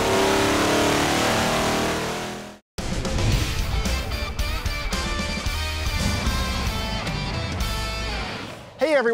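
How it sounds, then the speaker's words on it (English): A 427 cubic inch LSX V8 crate engine roars and revs hard, loud and close, after a brief burst of other sound and a short silence. "This is our 427 cubic inch LSX Extreme Crate engine"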